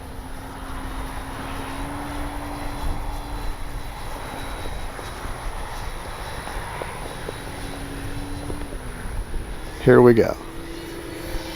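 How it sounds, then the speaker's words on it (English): An RC model F4U Corsair warbird plane makes a fast pass, its engine holding a steady droning hum that surges loudly near the end, with someone talking over it outdoors. "We're gonna go back and come from the other direction here and do a fast pass with the wind."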